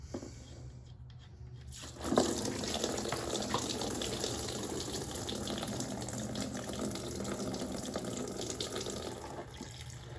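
Coolant gushes steadily from a car radiator after the cap is undone, making a continuous loud watery rush with a sharper surge near the start.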